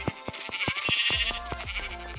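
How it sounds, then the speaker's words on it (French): Sheep bleating in the Minecraft video game, several short wavering bleats at close range over a thudding game soundscape, with no talking. "il y a des moutons"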